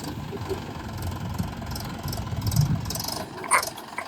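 A tractor engine chugs at a steady low idle in a flooded paddy field, with a faint mid-range rumble, a few soft knocks and light clatter throughout.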